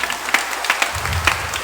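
A church congregation at a Christmas-season Simbang Gabi Mass in Quiapo Church claps loudly together, a brief dense patter of many hands with a low rumble of voices underneath.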